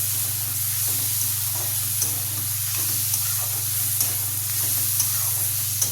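Tomatoes added to onions already fried red with fenugreek leaves in a pan give a steady, dense sizzle with faint crackles, carried over a low constant hum, with no talking.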